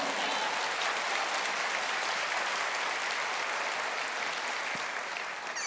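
A church audience applauds steadily during a sermon, a continuous wash of many hands clapping at moderate distance that lasts several seconds without a break.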